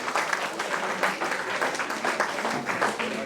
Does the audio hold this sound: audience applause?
yes